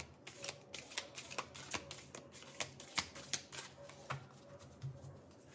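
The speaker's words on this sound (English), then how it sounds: "So let me shuffle the cards" A deck of tarot cards is riffled and shuffled repeatedly at close range, crisp rapid flutters coming in short bursts with soft taps between them.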